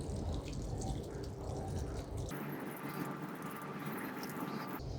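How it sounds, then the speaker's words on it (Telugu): Water lightly sprinkled over a thin layer of soil in a pot sown with coriander seed, a soft spattering patter that thins out partway through, faint and close. "సో దీని మీద లైట్గా ఇప్పుడు మనం నీళ్ళు చల్లేద్దాం."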